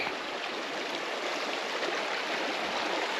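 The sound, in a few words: Rio Chiquita Creek flowing water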